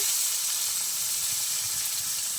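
Tomato frying in a pan gives a steady, close, bright sizzling hiss that holds throughout without a break.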